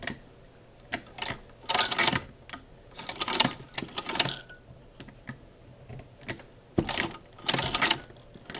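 A Singer 15-88 sewing machine fitted with a zigzagger stitches in short, rattling bursts of rapid clatter separated by pauses, close and moderately loud, with no talking.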